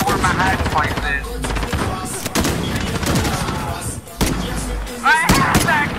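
Rapid gunfire crackles through a multiplayer shooter game, with dense bursts of shots and sharp impacts layered under excited voices chattering over the action.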